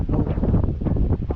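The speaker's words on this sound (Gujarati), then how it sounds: "અત્યારે પવન બહુ થઈ ગયો" Strong gusting wind buffets the microphone aboard a fishing boat at sea at night, rumbling low and close in uneven surges, with no talk.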